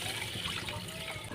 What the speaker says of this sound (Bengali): এবার এর মধ্যে আমি একটু গরম জল দিয়ে দিলাম।